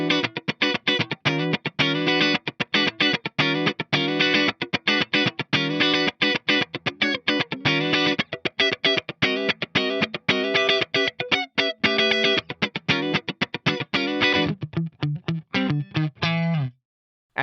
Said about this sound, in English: if we turn the reverb off, we get a really cool DI style funk tone